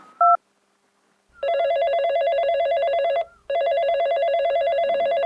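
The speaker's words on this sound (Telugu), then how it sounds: "మళ్ళా రింగ్ అవుతుంది." A telephone rings loud and close: a short electronic beep, a pause, then a repeating trilling ring pattern in two long bursts with a brief break between.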